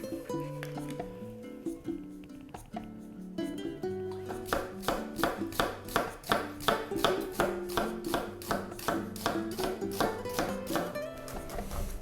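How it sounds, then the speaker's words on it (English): A knife chops onion and garlic on a cutting board in rapid, regular strokes, close and crisp. Quiet music plays underneath, and the chopping speeds into a steady rhythm after a few seconds. "we're gonna cut our onion and our garlic"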